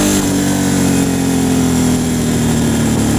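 A Ducati Hypermotard 1100 motorcycle engine revs loudly and close by, a steady droning roar that holds high throughout without pause.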